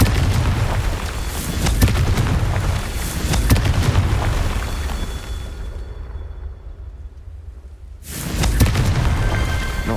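Loud, heavy booms from the Confringo blasting curse in the Hogwarts Legacy video game, repeated explosions with rumbling low end, a brief lull near the end before another blast rolls in.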